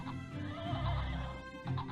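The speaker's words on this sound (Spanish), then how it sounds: "El caballo corre mucho." A horse neighs in one sustained, loud, quavering whinny that lasts about two seconds, with no other voices.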